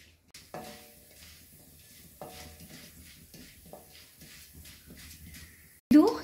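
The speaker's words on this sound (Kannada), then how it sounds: "ಸಾಸಿವೆ ಸಿಡಿಬೇಕು" Mustard seeds splutter in hot oil in a new kadai during tempering for sambar, giving faint, scattered pops and crackles at irregular intervals, followed by a louder clatter at the end.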